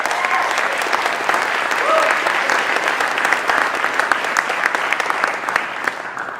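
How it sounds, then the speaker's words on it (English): Steady, dense applause from an audience at a civic address on the condition of the city, sustained at an even level for several seconds with a few faint voices mixed in. "So could we just kind of give a round of applause?"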